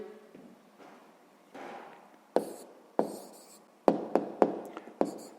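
Pen writing an answer by hand on paper during a sixth-grade maths exercise: soft scratchy strokes broken by several sharp taps and clicks, close and alone.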